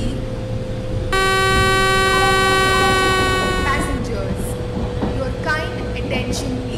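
In a train simulator game, a train horn blares a long, steady note over rumbling station noise as a train arrives at a platform, then fades as an announcement voice and scattered chirpy tones follow.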